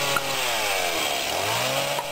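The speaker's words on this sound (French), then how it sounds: "c'est pas grave, une tronçonneuse ça suffit." A chainsaw drones steadily at close range, a continuous buzzing motor whine with no pauses.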